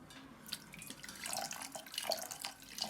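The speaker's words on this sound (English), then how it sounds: "this is the time for me to add my distilled water, and I'm going to add it gradually as I stir" Distilled water trickles gradually into a homemade organic base cream as it is stirred, a faint, close splashing and dripping pour with small clinks of the stirring utensil, no voices.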